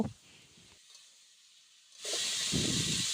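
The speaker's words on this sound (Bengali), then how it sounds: "এবার লাউটা ঢেলে কিছুক্ষণ নাড়াচাড়া করব" Chopped bottle gourd hits a hot pan and is stirred, a sharp burst of loud sizzling hiss rising after a quiet moment and continuing steadily up close, with scraping stir sounds underneath.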